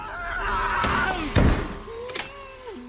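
A window is slammed shut in a tense film scene: one sharp, heavy thud lands midway through, with tonal music and lighter knocks and scrapes around it.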